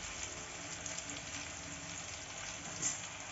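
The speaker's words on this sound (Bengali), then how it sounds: "এইভাবে ততক্ষণ নাড়তে থাকবেন যতক্ষণ না এই মশলা থেকে সম্পূর্ণরূপে তেল বেরিয়ে" Tomatoes cooking with turmeric, chilli and cumin powder in oil in a frying pan for spicy eggplant: a steady, soft sizzle and hiss with faint stirring, close and unbroken.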